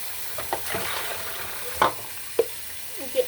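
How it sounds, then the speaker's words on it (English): Chicken fries in a pan with a soft, steady sizzle, broken by a few sharp clinks of a utensil against the pan. "the chicken is already cooking"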